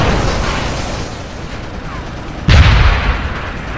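A sudden loud blast booms out partway through in Deus Ex: Human Revolution, with a deep low rumble that lingers over steady game noise.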